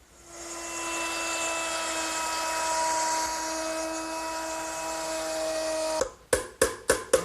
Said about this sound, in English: I'm going to route it out using a 1/4-inch veining bit set up in my router